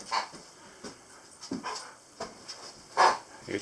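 A border collie pants nearby in soft, irregular breathy huffs, with a louder puff near the end and no talking.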